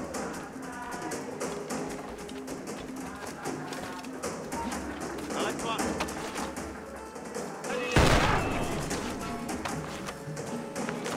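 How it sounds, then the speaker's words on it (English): A blunderbuss fires in the video game Assassin's Creed IV Freedom Cry, one sharp loud blast partway through. Busy game sounds run under it, with taps, thumps and scattered bird calls, and a voice speaks. "it's best to use the blunderbuss, Adewale's powerful new weapon"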